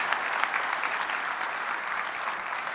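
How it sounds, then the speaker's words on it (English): Audience applause fills the hall at FlightSimExpo 2025, a dense, steady wash of many hands clapping at even loudness throughout, with no voices rising above it. "let's give ourselves and everybody a big round of applause for making this show happen"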